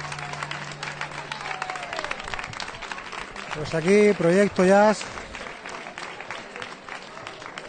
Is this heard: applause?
yes